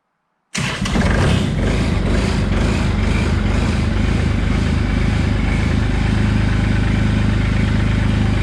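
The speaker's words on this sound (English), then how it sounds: "I bump the starter just a little bit like this" A Kubota L2501 diesel tractor, started cold in snow, cranks briefly and catches, then settles into a loud, steady close-up diesel idle with a rhythmic clatter.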